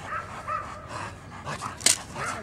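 A dog panting during protection work on a bite sleeve, with rhythmic breaths close by, a sharp brief yelp or vocal burst near the end, and a voice partly mixed in.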